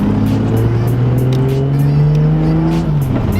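A loud engine of a 600 hp Supra revs up and holds a rising, buzzing drone close by, the pitch climbing steadily before easing off at the end.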